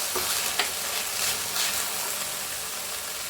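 Millet noodle vegetables with soy sauce sautéing in a pan, a loud and steady close sizzle with a few brief stirring scrapes and no talk.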